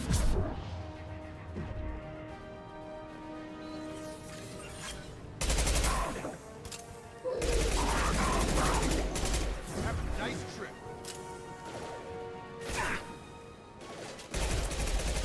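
Assault rifle fire rattles in Mass Effect 2 Legendary Edition, with repeated loud bursts of rapid automatic shots over game music and ambience, heard among other in-game combat sounds.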